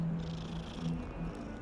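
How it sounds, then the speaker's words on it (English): A cat purring steadily at close range in Hogwarts Legacy, a low continuous rumble with faint soft tones and no talk over it. "Kitty cat, come back here, kitty. I'll pet you."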